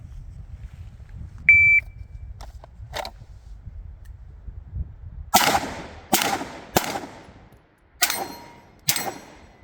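A shooting drill starts with a shot timer's short electronic beep over a low rumbling background. Moments later five sharp, loud gunshots crack at uneven intervals, each followed by a brief ringing decay. No one speaks.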